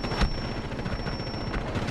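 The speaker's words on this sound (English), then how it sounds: "Can you stop shooting?" Rapid, close bursts of gunfire in a first-person shooter video game, sharp cracks merging into a dense clattering stream, with no talk.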